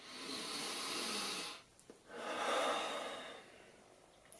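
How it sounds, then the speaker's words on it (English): Slow, deep breathing heard up close: a long airy inhale, a brief pause with faint small noises, then a long exhale; quiet and with no talking. "is just breathing. Just deep breathing."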